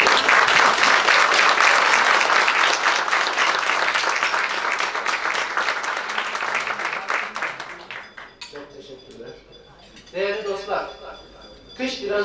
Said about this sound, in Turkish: Bu alkışa bir daha gelmez mi acaba?